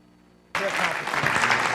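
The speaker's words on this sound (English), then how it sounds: "Give them a round of applause" After a half-second of near silence, a crowd bursts into loud, sustained applause that carries on to the end.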